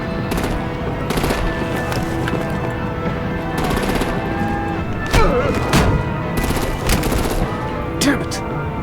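Rapid automatic gunfire and artillery blasts in the Batman: The Enemy Within video game, loud repeated bursts in clusters across the whole stretch, with shouted voices mixed in.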